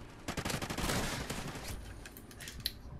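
Rapid automatic gunfire in a Call of Duty: Ghosts online multiplayer match, a fast burst of shots that thins into a few scattered pops, fairly quiet overall.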